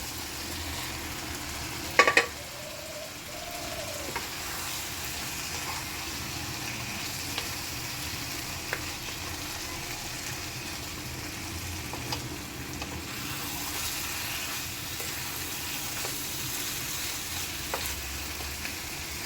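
Oil sizzles steadily as prawns in a yogurt mixture fry in a pan, after a short clatter near the start; the hiss continues evenly throughout, with no talking.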